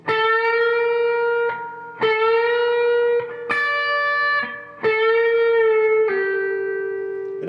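Slow electric guitar solo phrase, five sustained, distorted single notes with bends, each ringing for over a second with short gaps between, played alone and loud.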